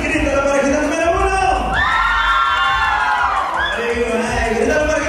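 A large crowd shouts and cheers loudly and continuously at a couples contest in Charlotte, North Carolina, with high whoops and children's yells rising over a dense roar.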